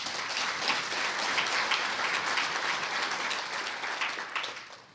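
A book launch audience claps in a dense, steady wash of applause that holds loud and even before tapering off at the very end.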